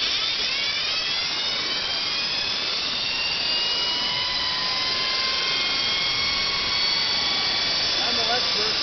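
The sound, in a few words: electric motor spinning with new brushes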